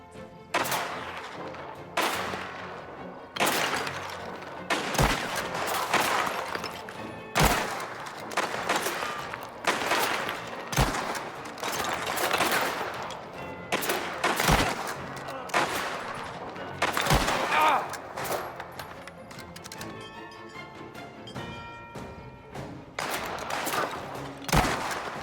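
Gunfire in the video game Mafia The Old Country: bursts of shots and sharp single blasts ring out at irregular intervals over a busy mix of game audio, loud and continuous throughout.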